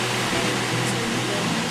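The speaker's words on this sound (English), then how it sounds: "I think we may have found a waterfall." A waterfall on Mount Adams rushes in a steady, loud, broadband roar that fills the whole moment without breaks, with no voices over it.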